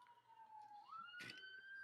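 Fire truck and ambulance sirens passing on a road, faint and distant, one wailing tone climbing in pitch, with a short burst of background noise partway through.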